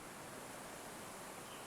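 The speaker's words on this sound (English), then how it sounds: "listening to the water and leaves" Steady broadband wash of flowing water mixed with soft rustling leaves in a quiet grove beside a pool, faint and continuous with no talk.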